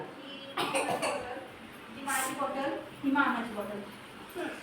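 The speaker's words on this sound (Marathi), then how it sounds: "हे बघा खोकला" A couple of short, sharp coughs break out close by, with people talking around them.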